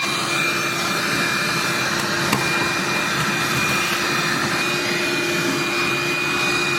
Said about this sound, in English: maybe vacuum a bunch of this stuff out